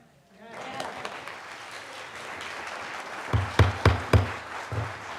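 An audience applauds at a township zoning board meeting, with soft background murmur giving way to a few seconds of scattered, rhythmic clapping in the room.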